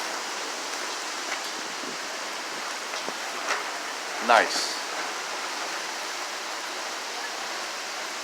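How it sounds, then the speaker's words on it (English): Monsoon rain falls with gusting wind in Scottsdale, Arizona, a steady broadband hiss throughout, with a few brief louder gusts or splashes and a short spoken word. "For our monsoon rain. And here it is."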